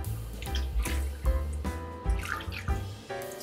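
Water poured over a Hungarian potato paprika dish topped with fresh parsley, heard as a close, steady splashing pour with gurgling, uneven surges throughout.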